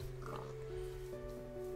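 Pig oinking in the Minecraft video game, a short grunting call over steady low game ambience, moderately loud and alone without talk.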